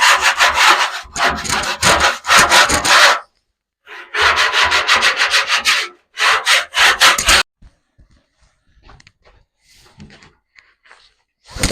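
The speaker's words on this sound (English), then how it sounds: "Now all I'm going to do is go ahead and scrape this thing" Plastic scraper scraping the inside of a drum smoker, loud rough strokes in three long rhythmic passes with brief pauses, then quieter scattered scrapes and knocks.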